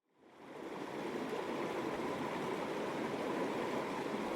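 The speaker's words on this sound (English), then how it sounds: "most of the river continues rushing downstream" The Stanislaus River rushes downstream in a steady, full roar of water that swells in within the first second and then holds constant and loud, with no voices.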